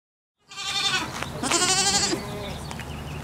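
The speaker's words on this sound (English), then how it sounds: "Do you see the triangle shape on the baby goat's forehead?" A baby goat bleats twice up close, a wavering nasal cry followed by a longer, louder quavering call, with faint background noise after a silent start.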